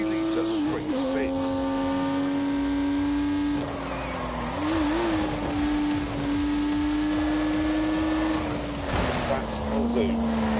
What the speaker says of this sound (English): unleashed 360 poly-rampaging horsepowers from the turbocharged 3-litre straight six